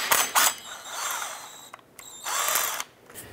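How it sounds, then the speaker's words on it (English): An impact wrench with an Allen swivel extension hammers Allen bolts loose from a drive shaft flange on a 2002-2007 Jeep Liberty, firing in two loud rattling bursts with a brief pause between, close up. "I'm gonna go ahead and use our Allen swivel extension and our impact to remove all of these."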